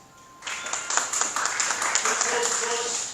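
An audience at a city election candidates' forum applauds after a candidate's speech. The clapping breaks out suddenly, stays moderate and even, and a voice talks over it.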